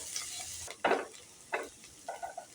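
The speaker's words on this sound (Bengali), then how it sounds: "তিনটে পেঁয়াজকে ভালো করে ভেজে নিচ্ছি" Three small chopped onions frying in a pan, a soft hiss broken by a few sharp bursts of sizzle and scraping stirs, close by and fairly quiet.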